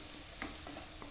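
Mushrooms sautéing with chilli, pepper, turmeric, coriander and garam masala in a pan, a soft steady sizzle with one light stir scrape, faint and brief.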